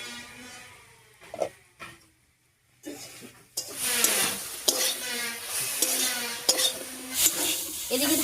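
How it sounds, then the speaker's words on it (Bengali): Spice paste being stirred into a pan of cooking potatoes and dheki greens gives a close, wet scraping and sizzle, with a few isolated strokes early on before steady, rhythmic stirring takes over. "এবারে বাটা মশলাটা দিয়ে দিচ্ছি। মশলাটা দিয়ে একটু নাড়িয়ে নিলাম"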